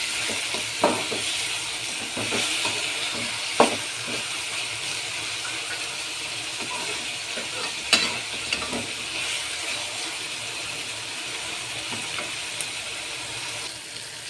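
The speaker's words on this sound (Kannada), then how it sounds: "ಚೆನ್ನಾಗಿ ಫ್ರೈ ಆಗ್ತಾಯಿದೆ." Tomatoes fry in oil in a pan with a steady bright sizzle, broken by occasional scrapes and clicks of a spoon stirring them, fairly close and without talk.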